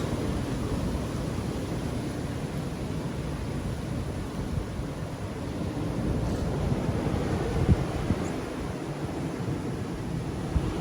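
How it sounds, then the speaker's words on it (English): Big ocean waves crashing and surging on a rocky Philippine shore in Antique, a steady loud roar of surf with wind noise throughout and no voices. "Big waves for here."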